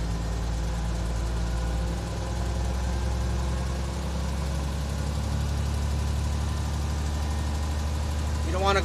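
A truck's engine runs with a slight rev to build air brake pressure, producing a steady, loud, low rumble throughout as someone speaks over it.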